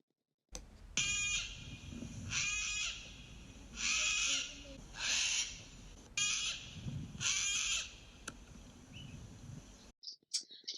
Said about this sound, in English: I see a cockatoo trying hard to talk.